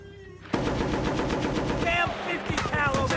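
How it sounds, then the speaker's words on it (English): .50 cal machine gun firing in Battlefield: Bad Company on Xbox 360, loud rapid bursts of heavy automatic fire that start abruptly and continue with short breaks, close and harsh, with a voice speaking over them. "Damn 50 cal over there!"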